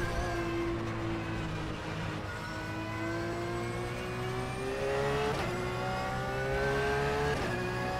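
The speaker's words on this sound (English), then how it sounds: "I really like the sound of this car" A GT3 race car engine in rFactor 2 drones steadily with rising pitch as it accelerates through gears, a continuous loud whine with brief shifts, no voices.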